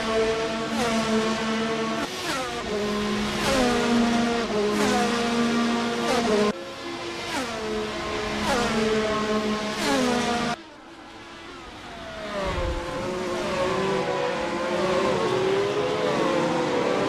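Race cars battling for the lead at the Japan GP in a racing video game, engines screaming in layered rising and falling whines with repeated gear-shift drops, then a sudden cut to a deeper, rougher engine note.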